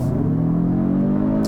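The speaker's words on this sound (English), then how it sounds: "Floored it there, you can see the transmission's eager to downshift." A 2022 Kia Stinger GT-Line sport sedan with an 8-speed torque converter automatic at full throttle, its engine note a steady, loud rising drone heard from inside the cabin with no talk.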